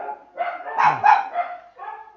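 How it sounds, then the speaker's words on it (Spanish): Dogs barking in a short burst of several yaps and barks, fairly close and loud, alone without talk. "ya sabía que iban a ladrar los perros"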